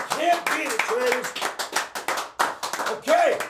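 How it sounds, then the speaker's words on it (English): Several rounds of hand clapping at a trade-show booth, bursts of brisk applause interleaved with someone talking over it. "while we're clapping, traders"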